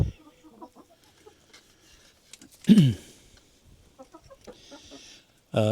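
Chickens cluck and murmur softly inside a coop fitted with roll-away nest boxes, one bird loudly squawking once midway, with scattered quieter clucks around it and another burst at the end.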